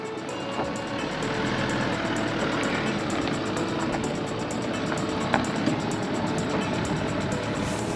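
Engine of a Toyota pickup driving an off-road trail, a steady loud rumble held evenly for the whole stretch without clear surges.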